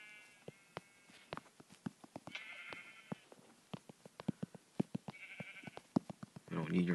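A Minecraft sheep bleats a couple of times amid a stream of sharp clicks and taps, fairly quiet overall.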